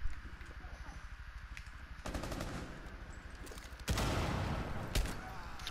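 Rapid gunfire bursts in Rainbow Six Siege: repeated fast shots in volleys, loud and close, with a couple of sharp pauses between bursts.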